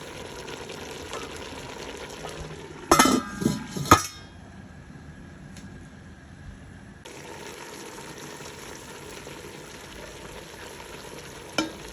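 Meat frying in a pan for dinuguan with coconut milk, a soft continuous sizzle with a few sharp clanks of stirring utensil against the pan, close by.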